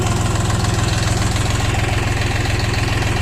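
A Dongfeng 244 DHX mini tractor's diesel engine runs steadily in low first gear without the throttle pressed, giving a close, loud, even chugging rumble with a constant rhythmic knock throughout.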